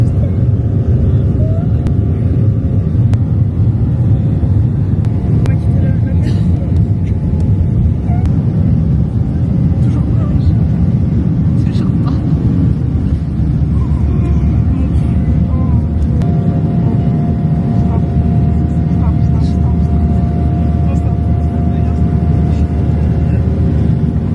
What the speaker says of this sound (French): Préparez-vous pour le décollage